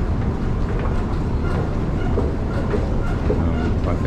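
A train running through Kuala Lumpur gives a steady, loud rumble with faint rhythmic clatter, a continuous low roar of wheels and carriage noise with no clear talking.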